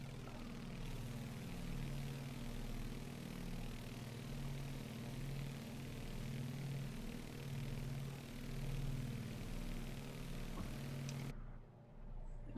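A Beechcraft airplane engine in a flight simulator game drones steadily in cruise flight on a clear day, a constant loud hum that cuts off abruptly at the end.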